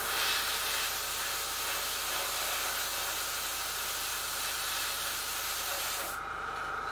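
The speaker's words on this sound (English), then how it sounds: "I'm just going to see how it's coming through the airbrush" An airbrush on a wide setting sprays heavily thinned varnish over a Seafire XV scale model. It gives a steady, close, loud hiss for several seconds before cutting off abruptly near the end.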